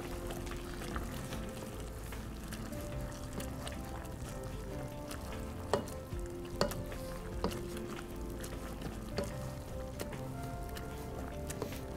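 Soft, irregular squishing and tapping of a potato masher working through cooked apples in a bowl, quiet and close.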